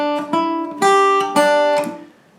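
Acoustic guitar plays a little riff, a few clear plucked notes on open and fretted high strings in a quick rhythmic pattern, ringing out and fading at the end, played alone.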